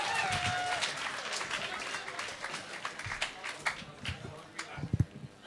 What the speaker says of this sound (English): Up and cheer for Scott!